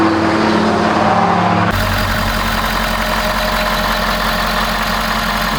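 A Ford 6.7L Powerstroke diesel cranks briefly and fires, then settles into a loud, steady idle with a deep, even rumble and mechanical clatter, close and continuous with no voices.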